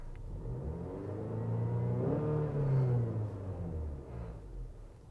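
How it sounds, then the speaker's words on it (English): A 10th-generation 2018+ Honda Accord engine revs up from idle, the pitch climbing smoothly to a peak and easing back down, loud and close with no one speaking. "And I'll just rev it a little bit here."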